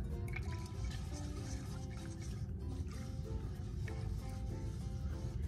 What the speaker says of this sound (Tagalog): Tapos lagyan na natin siya ng vinegar.